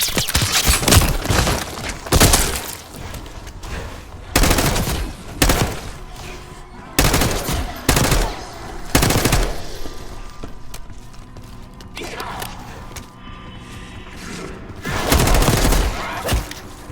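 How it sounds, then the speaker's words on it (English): Machine-gun fire in the video game Black Ops 6 crackles in repeated loud bursts separated by short pauses, with clattering impacts and rumbling booms in between. "You hearing gunfire? Yeah. Sounds like it's coming from one of the lower floors."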